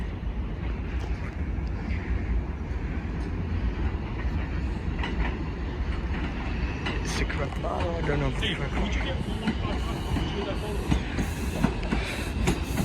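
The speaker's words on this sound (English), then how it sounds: "This is a Manhattan bound 4 train." A Manhattan-bound IRT 4 subway train rumbles through Bedford Park Blvd–Lehman College station in a continuous loud roar with rail clatter, while people talk nearby.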